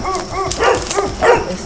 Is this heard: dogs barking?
yes